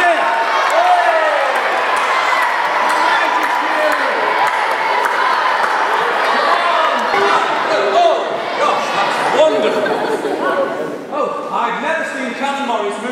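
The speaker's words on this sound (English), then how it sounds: "Are we ready to cheer?" Children cheer loudly together at a Year 6 leavers service, a dense, sustained crowd roar with excited shouts and voices layered throughout, filling the room and easing slightly near the end.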